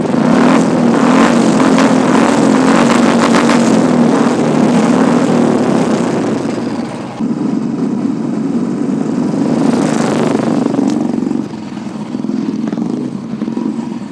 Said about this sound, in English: let's turn on all three engines and roar.